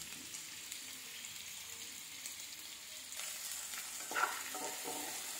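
Onions and tomato frying in a pan with a steady, soft sizzle, occasional stirring scrapes and a brief louder spatter toward the end, no voices.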